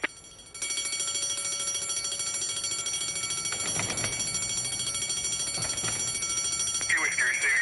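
An alarm bell ringing at a Presto supermarket on a high street, a continuous shrill ringing that starts abruptly and carries on steadily, with a voice over a radio breaking in.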